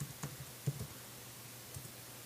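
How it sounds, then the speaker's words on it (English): Quiet typing on a computer keyboard, a handful of soft irregular clicks spread over about two seconds against low background hiss. "And you want to type in Ustream."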